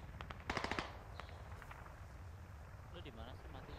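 Sniper and automatic gunfire crackle in the Squad video game, a quick burst of sharp shots early on with scattered fainter reports after, set against faint wind and low rumble.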